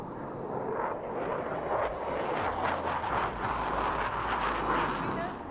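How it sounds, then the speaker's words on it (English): Broad, rumbling roar of military aircraft flying past at an air display, a sustained engine wash swelling and fading with a low throbbing undertone, heard close and loud. "Mighty aircraft."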